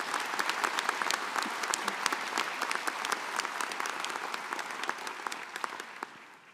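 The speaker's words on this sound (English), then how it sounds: "Let's just give them all another big round of applause." A commencement crowd at a college of pharmacy ceremony applauds, dense crisp clapping that continues steadily and slowly thins out toward the end.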